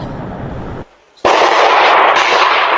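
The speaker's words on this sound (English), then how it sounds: "The sound of gunfire ringing out on the Strip early Sunday morning." A loud, dense burst of rapid gunfire erupts after a brief pause, crackling and echoing continuously, preceded by a rumbling stretch of similar noise, captured on a Ring doorbell camera on the Strip early Sunday morning.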